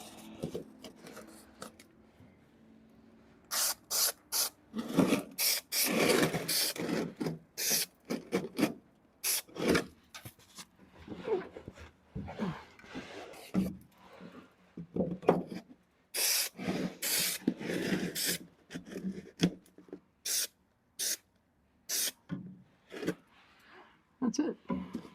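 A spray can hisses in repeated short bursts, with rasping rubbing in between, during work on a 1969 Camaro; the sprays are irregular, some louder and closer than others.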